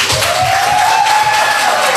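An audience at a holiday prize ceremony claps and applauds, dense and continuous, while a faint tone rises and falls underneath.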